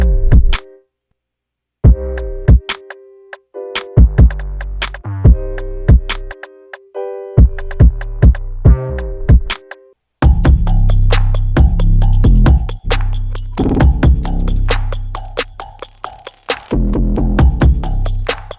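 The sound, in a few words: 808 bass synth presets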